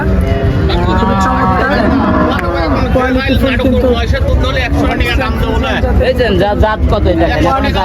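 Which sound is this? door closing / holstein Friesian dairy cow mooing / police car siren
holstein Friesian dairy cow mooing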